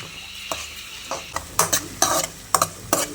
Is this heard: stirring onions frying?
yes